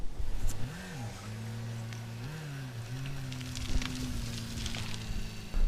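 A 1986 Toyota Tercel's engine idles and revs gently, its low hum rising and falling with throttle, moderately distant, with faint outdoor background noise.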